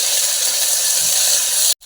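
Ginger garlic paste sizzles in hot oil with fried onions for tomato rice, a loud, even, close hiss that holds steady before stopping suddenly near the end.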